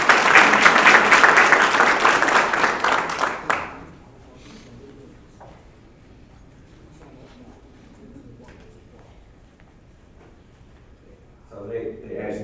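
An audience at a county graduation ceremony bursts into loud, dense applause for about three and a half seconds, then it cuts off into a quiet room with faint murmurs and shuffling, and a few claps or noises return near the end.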